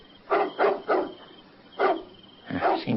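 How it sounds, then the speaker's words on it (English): A dog barks outdoors at night in a radio drama: five sharp barks, three in quick succession, a pause, then two more, fairly close and clear with no speech over them. "That's one thing I can't abide by, and that's a dog barking at nothing."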